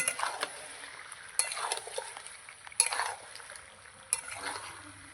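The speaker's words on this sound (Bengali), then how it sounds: "চেরা কাঁচা লঙ্কা দিয়ে আমি আবার একটু নাড়াচাড়া করে নেব" Slit green chillies stirred through a frying pan, with a soft sizzle under scraping spoon strokes that come in about four separate bursts, close up and with no voices.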